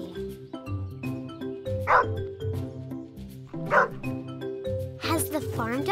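A dog barks a few times over cheerful background music, the barks loud and spaced apart.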